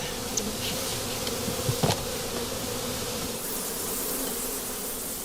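Honeybees buzz around beehives being inspected and prepared for shipment to California, a steady close drone with a few brief knocks and bumps partway through.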